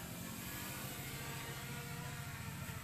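SJRC F11 quadcopter drone flies outdoors on an afternoon, its propellers giving a continuous steady buzzing whir at fairly low level with no talking.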